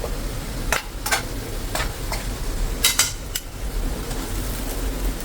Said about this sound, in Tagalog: next, idagdag na natin itong ating chicken na hinimay